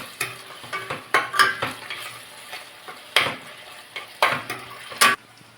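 Garlic frying in a hot pan while a spoon stirs it, a light sizzle beneath sharp, irregular scrapes and clinks of metal against the pan, close up with no voices.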